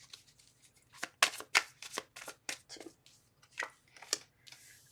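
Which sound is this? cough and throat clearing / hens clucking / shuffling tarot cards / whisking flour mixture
shuffling tarot cards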